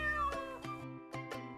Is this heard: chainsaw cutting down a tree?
no